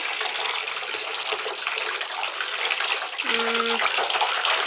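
Water running from a bath tap fills a tub with a steady broadband rush, joined near the end by a brief tonal whine from the plumbing.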